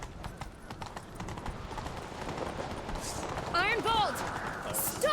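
Roach, a horse in The Witcher 3, gallops in a fast, rhythmic clip-clop of hooves that grows louder toward the end, under game dialogue and other game sounds.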